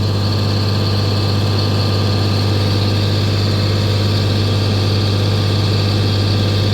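An old Eimco dozer engine running at raised throttle gives a loud, steady, close mechanical drone with a strong low hum, unbroken throughout and with no voices.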